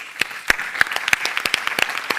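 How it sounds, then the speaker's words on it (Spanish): A single woman claps her hands for herself, about a dozen sharp claps in a quick, somewhat uneven rhythm, close and clear with no talk over them. "Me aplaudo yo sola."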